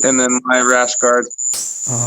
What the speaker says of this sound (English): So you might hear some crickets in the background.